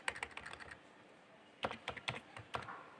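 Typing code on a computer keyboard: a quick run of clicky keystrokes, a short pause, then a few more separate key presses, close and fairly quiet.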